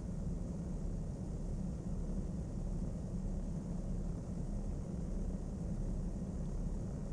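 Steady, even engine drone of an airliner taxiing along a taxiway in Flight Sim World, a constant low rumble with broadband hiss and no change in level throughout.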